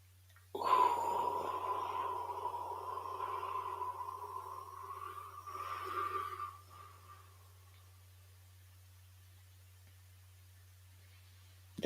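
A slow, steady breath drawn in through the nose for a few seconds, then a long, soft, airy exhale that fades into silence over a low constant hum; breathing exercise with a four-count inhale, seven-count hold and eight-count exhale.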